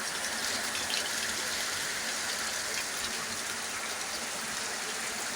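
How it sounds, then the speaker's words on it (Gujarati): Heavy rain falls in a steady, dense hiss that stays loud and unbroken throughout, with no voices over it. "અત્યારે ફૂલ વરસાદ આવે"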